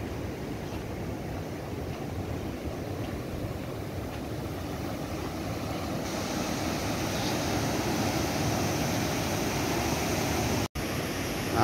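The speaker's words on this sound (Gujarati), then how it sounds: "એક્ઝેક્ટ પાછળ સમુદ્ર આવેલો છે." Sea waves behind the Gopnath heritage bungalow near Bhavnagar produce a steady, continuous wash of surf that holds at an even level throughout, with no voices.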